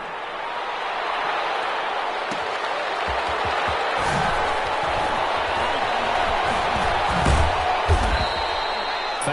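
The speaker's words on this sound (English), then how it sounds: "How about some applause for the defense there?" Crowd applause and cheering in a football video game, a broad steady roar of clapping that carries through the whole stretch under a commentator's voice.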